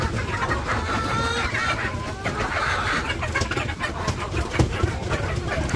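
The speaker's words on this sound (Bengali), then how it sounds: "ডিম পারছে মুরগি।" Hens cluck in a poultry farm shed after laying eggs, overlapping calls that come fairly close and loud over a busy, noisy background.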